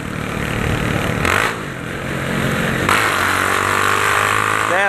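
A Honda Titan motorcycle with a straight-pipe exhaust runs loud and close in a favela setting, its engine droning continuously and then rising in pitch as it revs near the end.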